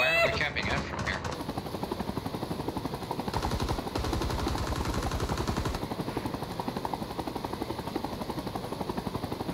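A helicopter door gunner's machine gun rattles in long rapid bursts over the thrum of rotor blades in a war video game, loud and continuous, with brief voices in the mix.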